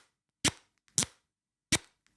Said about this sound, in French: Le casque est réglable sur 10 crans de chaque côté, et bon bah les crans tiennent bien du coup, mais ça fait vraiment beaucoup de bruit.